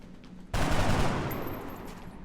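Sudden burst of gunfire in XCOM: Enemy Within with the Long War mod, a loud crack that rolls into a dense rattle of shots and fades over about two seconds.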